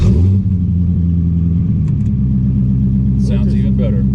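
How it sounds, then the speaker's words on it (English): The engine of a custom 1963 split-window car rated at 500 hp gives a steady, heavy, deep rumble under way from inside the cabin, with a brief voice heard toward the end. "Motor sounds heavy, powerful"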